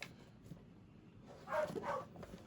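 A dog barks a few times in quick succession, fairly faint and somewhat distant, with a quiet room in the background.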